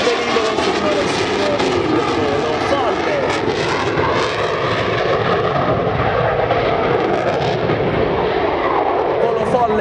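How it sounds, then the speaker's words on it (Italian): A Frecce Tricolori solo jet at an airshow climbs away at full throttle, a loud sustained roaring jet engine with a rushing, rumbling texture that shifts slowly in pitch, with an announcer's voice over it. "Del nostro solista che poi tutto motore si arrampica alla nostra destra"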